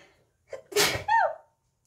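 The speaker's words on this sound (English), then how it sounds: "Oh, I sneezed." A single close human sneeze indoors, a short sharp inhale followed by an explosive burst and a brief voiced trailing sound, alone in quiet.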